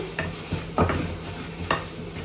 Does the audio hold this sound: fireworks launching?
no